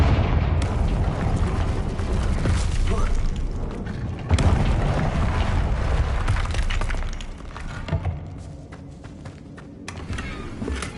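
Confringo fire-blast spells go off in the video game Hogwarts Legacy, with loud booming explosions and rumbling impacts that come one after another and are layered over other game sounds and some voice.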